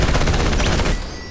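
Shotgun blasts roar in the Battlefield Hardline video game, a dense, loud burst of rapid gunfire lasting about a second before cutting off into a quieter tail.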